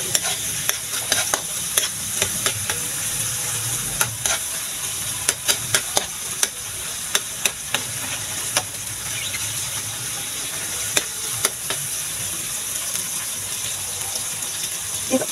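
Garlic fries in a pan with a bright hiss and sizzle, punctuated by frequent sharp clicks of a utensil stirring against the pan; no one talks.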